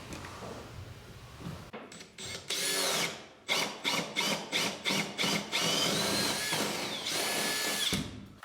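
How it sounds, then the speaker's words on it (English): Power drill boring through wooden floor joists overhead in a basement, a loud close whine broken into a rapid series of short bursts as the bit bites and releases, then one long steady grinding run to the end. "Before you start drilling, always check the back side to make sure you're not gonna be drilling into anything."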